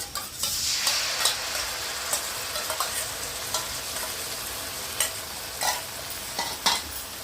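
Boiled tamarind juice bubbles and sizzles over well-fried onions in a pan for temple-style pulihora, a dense steady hiss broken by occasional stirring scrapes and clicks, close and free of voices.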